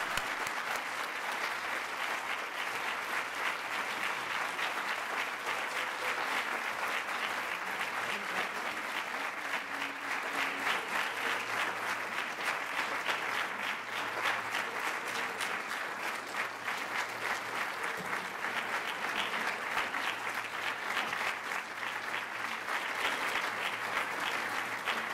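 Audience at a nursing awards ceremony applauding the Donna Diers Speaking of Nursing awardees, sustained steady clapping from a full room lasting the whole stretch, even and moderately loud.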